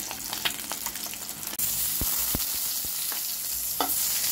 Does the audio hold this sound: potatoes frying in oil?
yes